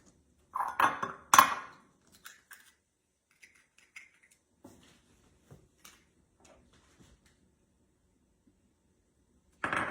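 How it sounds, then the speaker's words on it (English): Three large eggs cracked against a mixing bowl for low-carb pumpkin cream cheese muffins: a couple of sharp taps and cracks up close, then small scattered clicks and drips in a quiet kitchen. "So I'm going to be putting in 3 large eggs"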